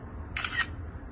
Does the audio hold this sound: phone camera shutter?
yes